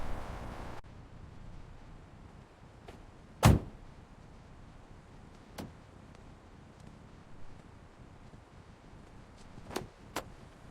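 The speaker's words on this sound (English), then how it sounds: "Closing the door now." A single heavy thud of a Toyota car door shutting, followed by a few fainter clicks and knocks inside a quiet vehicle.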